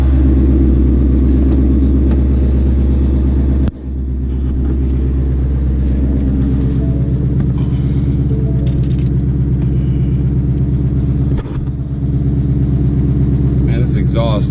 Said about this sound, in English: Man, this exhaust rattles.